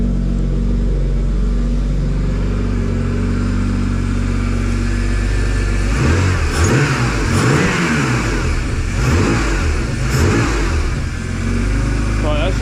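A BMW E36 328i engine idles steadily while the steering is turned lock to lock, then rises and falls in a few revving surges as the load changes, loud and close throughout.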